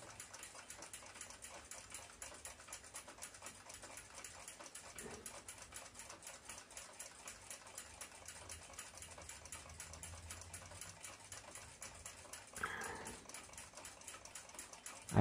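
A reamer works through a hole in a Westclox Big Ben clock plate, giving a faint, quiet, steady rhythmic grinding and ticking with a couple of small knocks.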